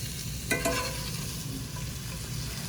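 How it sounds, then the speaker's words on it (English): Zucchini sautéed in olive oil being scraped out of a frying pan into a baking dish, soft sizzling under a couple of sharp utensil scrapes, quiet and close with no voices. "I am just going to take it out of the frying pan and put it into the baking dish."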